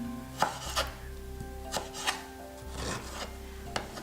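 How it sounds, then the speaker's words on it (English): A knife chops fresh chives on a wooden cutting board for pork and bacon spring rolls. Close, irregular thuds and scraping strokes repeat over a steady low background hum, with no talking. "you can try to cut them"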